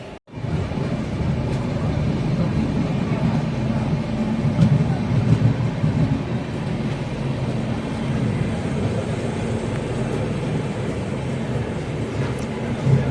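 A passenger train running from Erode to Palakkad gives a steady, loud rumble of wheels and carriage noise that stays even and continuous throughout, with no voices.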